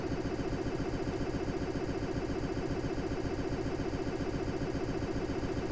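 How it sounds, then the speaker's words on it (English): A boat engine runs steadily in the game Stormworks, a constant mid-pitched rumble with a rapid pulsing texture and no other sounds, moderately quiet throughout. "engine on"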